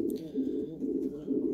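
Domestic pigeons coo in a soft, repeated rolling rhythm, close by and moderately quiet, with no talking.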